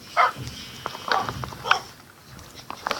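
A few Minecraft dogs bark in short bursts at a moderate distance, with thin electronic background noise and soft rustling between the barks.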